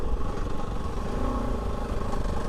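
A Kove 450 Rally dual-sport motorcycle ridden on a dirt trail, its single-cylinder engine droning steadily and loud throughout with rough rumbling and clatter, no voices.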